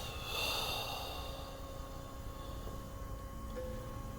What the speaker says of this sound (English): Take a moment and breathe.